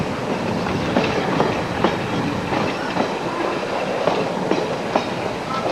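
Train rolls across a wooden trestle under rebuild, wheels clicking in a steady repeating clickety-clack over a continuous loud rumble heard from on board.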